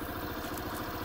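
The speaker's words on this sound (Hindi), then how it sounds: "अब जैसे ही मैंने स्कूटर को स्टार्ट कर लिया है" A 2024 Suzuki Avenis 125 Ride Connect Edition scooter idles with its engine running but not revved, a soft, steady low putter of even pulses.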